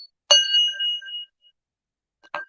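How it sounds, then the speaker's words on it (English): A small hand bell is struck sharply, giving a bright metallic ding that rings and decays for about a second, followed by a second quick strike after a pause, with no talk over it. "We gotta hit the bell."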